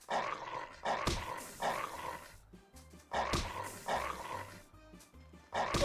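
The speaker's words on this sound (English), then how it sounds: "I forgot we could attack as the dog" A dog in The Good Life video game growls and snarls while attacking, in several rough bursts with short gaps between them. The sound is close and fairly loud.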